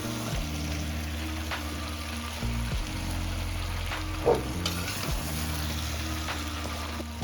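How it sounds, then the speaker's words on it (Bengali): Malabar spinach frying in a pan with fish oil and fish head, a steady sizzle with a low background hum and occasional soft stirring knocks. "পুঁই শাকটা দিয়ে দিচ্ছি।"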